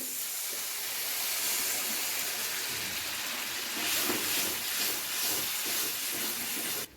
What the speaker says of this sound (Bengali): এবার আমি দিয়ে দেবো এর মধ্যে পরিমাণ মতো জল।